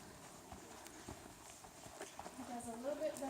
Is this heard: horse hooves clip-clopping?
yes